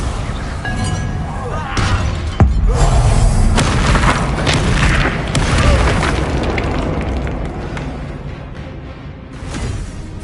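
Spell blasts ring out in Hogwarts Legacy combat, a Confringo fire curse detonating with a loud boom followed by crackling bursts and shattering debris, layered over continuous battle noise with no speech.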